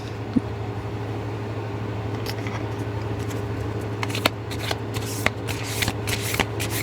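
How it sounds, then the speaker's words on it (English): Tarot cards are shuffled by hand close up in soft, repeated riffles and brushing slides over a steady low electrical hum, and no one speaks. "I am going to pull one more card for you."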